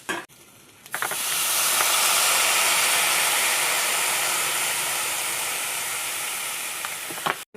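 Water hits a hot pan of fried bitter gourd, bursting into a loud hissing sizzle after a brief quiet moment, then holding steady and slowly easing off before a few clatters at the end.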